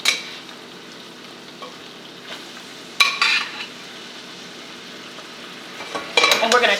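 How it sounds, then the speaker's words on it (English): Blanched asparagus goes back into a pan of garlic butter sauce and is tossed with a low sizzle, sharp utensil clanks against the pan near the start, middle and end, and light handling noise in between. "we're going to add our blanched asparagus back into the pan."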